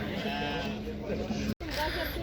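Sheep and lambs bleat at a livestock market in Uzynagash near Almaty, the animal calls blending with nearby talk, followed by a brief dropout near the end.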